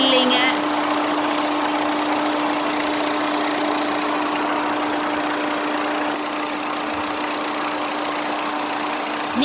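A 2006 Tata Indigo CS diesel car engine idles steadily for the whole stretch with a constant low hum and a faint mechanical rattle, loud and close, with no talk over it.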